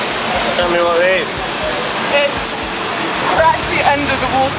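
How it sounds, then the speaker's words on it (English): Niagara Falls roars from directly underneath the waterfall as a loud, constant wash of rushing water, while voices call and talk over the din throughout. "We're actually under the waterfall in Niagara Falls."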